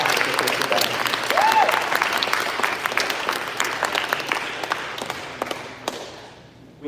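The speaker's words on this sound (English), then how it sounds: "So I want to give him a round of applause as well" Audience applause at the Transition Maine I Belong Summit, an education event, with dense steady clapping that fills the room and slowly tapers off toward the end.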